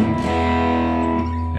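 A Jonah Guitars Route 66 electric guitar played through its neck pickup with the tone fully open, giving a gritty, distorted sustained chord that rings steadily and loud on its own.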